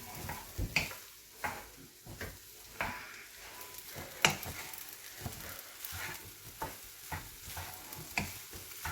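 Prawns frying in a pan for egg fried rice, a steady sizzle broken by repeated scraping and stirring clatters of a utensil against the pan, close and fairly loud with no talking.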